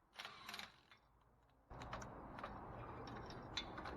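A ratchet tightens the smaller U-bolts on a Rough Country lift kit for a 2017 GMC Sierra or Chevrolet Silverado, a quiet, close clicking and mechanical whirr in short bursts with a brief pause.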